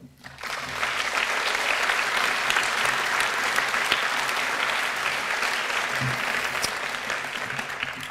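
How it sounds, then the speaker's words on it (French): Sustained applause from a large audience at a Normandie Université doctoral graduation ceremony, a dense steady wash of clapping that starts abruptly and holds evenly for several seconds, close and full. "Et je pense qu'on peut les applaudir."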